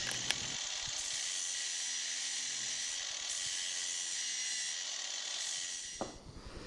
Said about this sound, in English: Here I'm drilling out the cavity with my drill press.